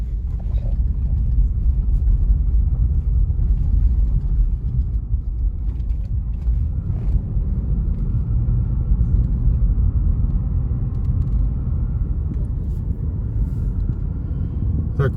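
A car rolls along an asphalt road in a continuous, loud, low road rumble with a steady engine and tyre drone and no break in the sound.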